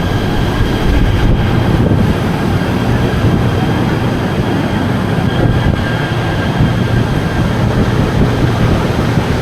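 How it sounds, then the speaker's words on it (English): A KTM commuter train arriving at KL Sentral station, a loud steady rumble and roar of rail wheels and motors filling the platform without pause, close by. "The train is now arriving"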